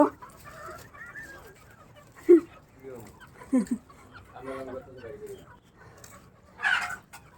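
Chickens cluck in short scattered bursts, moderately near, with voices speaking between the calls in a quiet outdoor setting.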